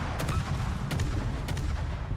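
Naval gunfire in the World of Warships video game: three heavy booming shots ring out over a steady low battle rumble, each blast sharp and loud.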